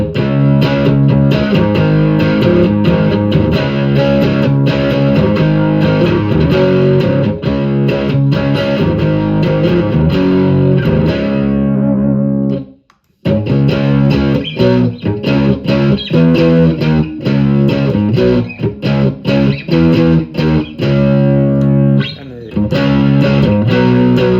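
A heavily distorted electric guitar, a Reverend Eastsider S T-style on its middle pickup, plays sustained chords and riffs, loud and thick, with a brief silent break partway through.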